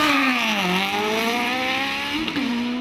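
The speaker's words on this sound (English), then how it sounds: "There are two Suzuki Hayabusa motorcycle engines mounted in the back of Chris Cornell's Force SR8 sports car." A Force SR8 sports car powered by twin Suzuki Hayabusa motorcycle engines screams past at a hillclimb, its high-revving engine note shifting pitch as it goes through the gears, loud and close throughout.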